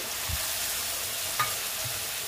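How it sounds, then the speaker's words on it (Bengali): Mustard-poppy paste frying with katla fish in a pan, a soft continuous sizzle with a few gentle scrapes of stirring, close and fairly quiet, no voices. "দিয়ে একটু নেড়ে নিচ্ছি। বেশি একটু ভাজতে যাব না"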